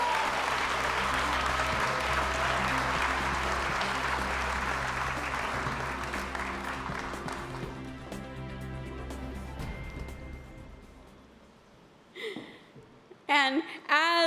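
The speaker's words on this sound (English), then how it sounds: "Let's have another big round of applause." Graduation ceremony applause rises from a large audience, a dense steady clapping that fills most of the clip before thinning out, with a few voices and stray sounds near the end.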